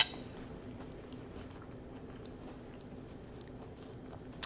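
Close biting and steady chewing on a crescent dough sopapilla cheesecake bar with a cinnamon sugar crunch topping, soft crunchy mastication continuing throughout with a couple of sharp crisp snaps.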